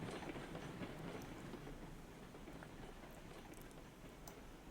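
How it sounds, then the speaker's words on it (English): Hopper cars rolling along the track in the video game Railroads Online, giving a steady rumbling clatter with faint rhythmic clicks of wheels over rail joints, fairly quiet and heard alone without talk. "So let's stop the train real quick, unload everything."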